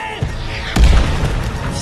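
Rocket explosions in the video game Cuisine Royale: a deep booming blast lands partway through, loud and rumbling over continuous dense game noise.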